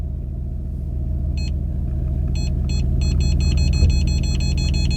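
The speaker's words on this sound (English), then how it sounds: "the sensors will tell you when to stop, which is pretty awesome too" A car's rear parking sensor sounds while reversing, short sharp beeps that start sparse and then repeat faster over a low steady engine rumble, with no talk.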